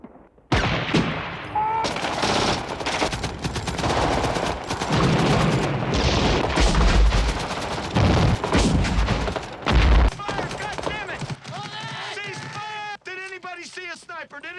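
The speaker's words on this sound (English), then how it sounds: "Murph, we're receiving enemy sniper fire." Heavy gunfire from the 1987 war film Full Metal Jacket: dense bursts of rapid automatic fire and booms go on for several seconds, with voices talking and shouting over the shooting before it tapers off.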